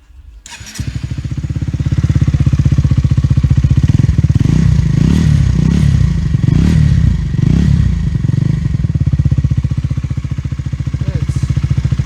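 A Honda CBR motorcycle fitted with a Chinese-brand exhaust starts up and settles into a loud, close, steady idle with a throbbing low pulse and a few light blips of the throttle.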